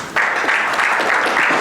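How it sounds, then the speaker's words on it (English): A round of applause for a guest speaker at an evening youth energy session, dense clapping rising abruptly and holding steady at full loudness throughout. "Ladies and gentlemen, please give a round of applause for Mr."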